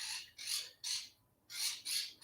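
A pet bird squawks loudly in a home, four harsh, bright calls in a row with a short quiet gap in the middle, close to the listener and no voices present.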